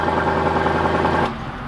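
A 2020 Lexus LC 500 engine idles steadily after a remote start, a loud, close, even rumble that drops away abruptly near the end as it shuts off.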